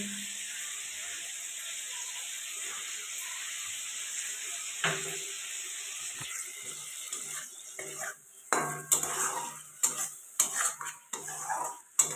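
Mustard paste is stirred into a frying prawn curry in a pan. A soft sizzle runs throughout, and scraping and clinking of a utensil against the pan grow busier and louder toward the end.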